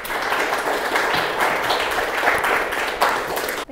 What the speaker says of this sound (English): Would you give Rachel Sue a round of applause as she comes up?